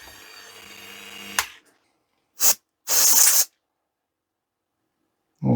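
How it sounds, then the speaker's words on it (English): A drill running steadily on a damaged Jabra Elite 3 earbud, carving a cavity into the casing, then stopping; two short separate bursts of harsh, hissy high-pitched grinding follow after a pause. "We don't want to drill a hole right through it though."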